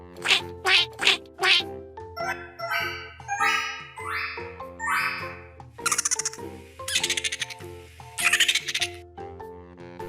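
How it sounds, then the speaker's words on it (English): A duck quacks in short, loud, rhythmic bursts, a quick run of nasal quacks opening and closing the stretch, set against bright, playful music in the background. "duck,"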